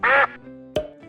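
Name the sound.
duck quacking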